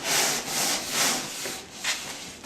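Rhythmic sanding strokes rasp back and forth across a wooden sailboat boom, close and fairly quiet, about five passes in a steady rhythm.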